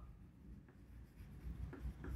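Chalk or marker writing a sentence on a classroom board during a chemistry lecture, a run of short scratchy strokes and taps, close and moderately quiet, with no talking over it.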